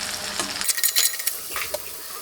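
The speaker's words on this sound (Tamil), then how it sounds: "இதில் ஒரு பச்சை மிளகாய் வந்து கீரி இந்த மாதிரி வெட்டி போட்டுடலாம்." Sliced green chilli drops into hot tempering oil in a pan, setting off a sudden close sizzle with scraping stirs that crackle on, then settle into a steady frying hiss.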